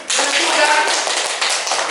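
Audience members clap for third-place winners at an Indonesian institutional guidance event, a brisk burst of close handclaps that swells and holds for a couple of seconds with faint voices underneath.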